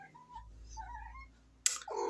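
A cat meows in a couple of short, quiet, rising calls indoors, followed by a sharp click and a brief rustle.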